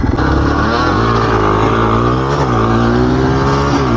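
A Yamaha Blaster quad roars loud and close at the start of a drag race, its engine note climbing and holding steady without a break.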